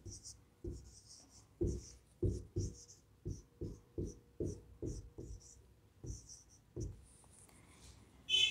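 Pen or pencil writes out a word on paper, a quiet, close series of short scratching strokes in an uneven rhythm, with faint breathing and small handling sounds.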